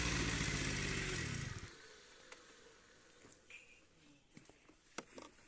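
A motorcycle engine runs loudly with a throaty, buzzing drone for under two seconds, then cuts out abruptly, leaving quiet background with faint clicks and rustles.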